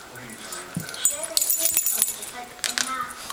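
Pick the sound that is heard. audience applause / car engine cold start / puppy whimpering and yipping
puppy whimpering and yipping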